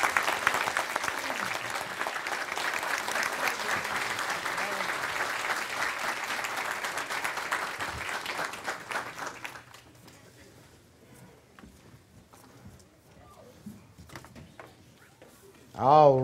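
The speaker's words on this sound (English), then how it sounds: "How about a round of applause for these folks?" Congregation applause during a Sunday worship service, a steady crowd clapping for about nine seconds before fading to quiet room noise with a few stray sounds, then a sudden loud burst right at the end.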